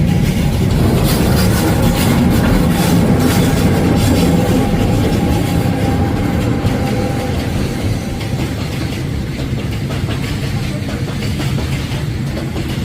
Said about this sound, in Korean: 지금 카페 임기역에 화물 열차가 지나가고 있습니다.